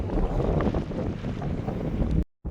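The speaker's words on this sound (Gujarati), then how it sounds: "આપણને પવન નીકળી આવ્યો છે ફૂલ" Strong wind at sea buffets a microphone aboard a fishing boat, a loud, steady roaring rush with gusty low thumps that cuts off abruptly near the end.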